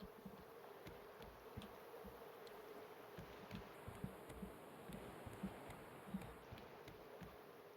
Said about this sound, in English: there's no way to tell if they're working at full capacity other than vaguely knowing how loud the buzzing is